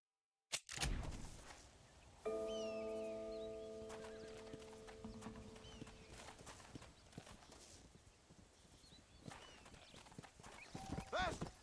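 Horse hooves clip-clop in the Red Dead Redemption video game, a steady close trot of hoofbeats under game music and a brief whinny, with a voice speaking throughout.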